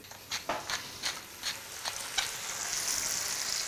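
Lightly salted tomato quarters hit a very hot frying pan, giving a series of sharp crackling pops that settle into a steady, bright sizzle.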